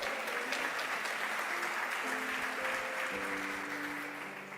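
An evening church congregation applauds, a steady, fairly distant wash of clapping with faint sustained tones underneath, gradually tapering off at the end.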